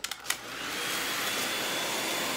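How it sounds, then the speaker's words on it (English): A couple of faint clicks, then a regular handheld hair dryer set on high whirs to life and blows steadily with a loud, even rushing hiss. "And I use a regular hand blow dryer."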